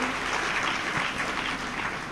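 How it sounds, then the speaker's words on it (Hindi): Dense, steady clapping from a large audience at a Hindu religious discourse, sustained evenly throughout without pause and with no voice heard over it. "आप तो ताली बजाओ, केवल ताली"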